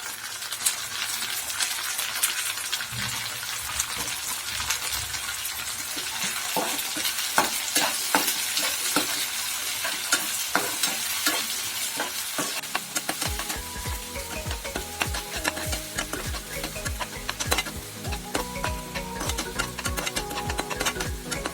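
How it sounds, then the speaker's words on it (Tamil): Chopped tomato pieces hit a hot pan and fry loudly, with frequent scraping stirs and clicks of the spoon against the pan over a dense, continuous sizzle that grows heavier partway through. "இப்போ தக்காளி ஆட் பண்ணிடுவோம்"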